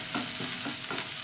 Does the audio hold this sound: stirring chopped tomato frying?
yes